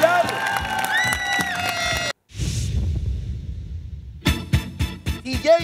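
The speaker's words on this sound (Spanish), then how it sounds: "Un aplauso para Laura que vuelve a su lugar." Studio audience of a Bolivian family game show applauding and cheering, with the clapping and crowd noise swelling in bursts between musical stings and a brief silence.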